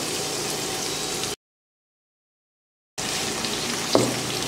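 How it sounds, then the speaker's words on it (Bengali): Chopped onions and green chillies fry in a pan with a soft, steady sizzle close by, broken by a stretch of silence and then a brief clink near the end. "পেঁয়াজ কুচিটাকে আমি ভালো করে ভেজে নিচ্ছি"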